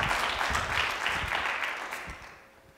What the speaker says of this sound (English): they always deserve a round of applause for what they do